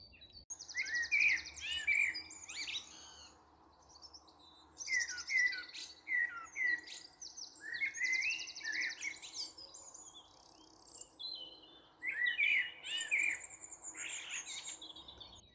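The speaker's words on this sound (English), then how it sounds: "the low, melancholy tones of the blackbird," Blackbird song in low, melancholy, repeated fluting phrases in spring, separated by short pauses, fairly close, with a faint insect-like hum beneath.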